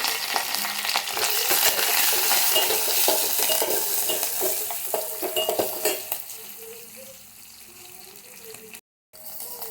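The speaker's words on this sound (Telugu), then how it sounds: "ఒక ప్యాన్ తీసుకొని ఆయిల్ వేసుకొని వేడెక్కిన తర్వాత పోపు వేసుకున్నాను" Tempering spices crackle and sizzle in hot oil in a pan, loud at first and then easing off, with a few scrapes and clinks and a brief silent gap near the end.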